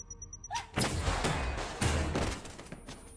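Gunfire in a film scene comes as a burst of rapid, loud shots with heavy thuds. It follows a brief high electronic beeping and then trails off into a rumbling decay.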